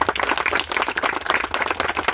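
A crowd at a public event in Maharashtra applauds to welcome an arriving guest: brisk, uneven clapping from a modest group, fairly close, continuing throughout with no talk.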